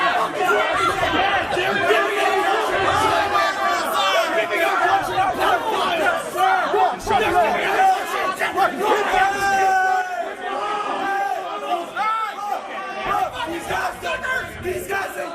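Dense crowd of protesters chattering and shouting all at once, a loud continuous babble of overlapping voices with occasional raised cries.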